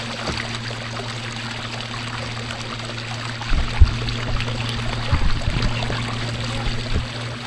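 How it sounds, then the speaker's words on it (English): Paddle strokes splash and water trickles around a Razor Edge Pro kayak fitted with an eFIN electric drive on a river, with a steady low drone underneath and a few louder splashes partway through. "Start paddling. Power paddling."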